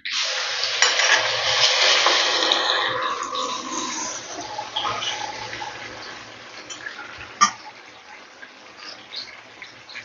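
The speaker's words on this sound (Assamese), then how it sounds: "এতিয়া মই এইখিনি ভালকে অকণমান দেৰি ভাজি ল'ম" Small pieces of Indian olive (jolphai) fry in hot spiced oil with panch phoron for a pickle, a loud crackling sizzle at first that slowly settles into a softer, steady frying hiss with occasional stirring clinks.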